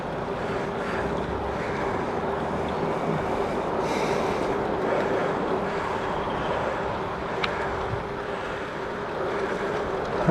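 Wind rushes steadily past a rider on a gravel bike fitted with Schwalbe Hurricane tyres, a continuous broad roar mixed with tyre noise on a gravel road, with a couple of faint clicks.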